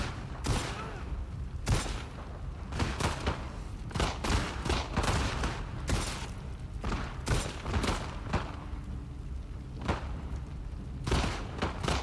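Gunfire from a firefight between Seraphites and a WLF soldier in The Last of Us Part II: rapid, loud, irregular shots and bursts with dull thuds, running on and off throughout.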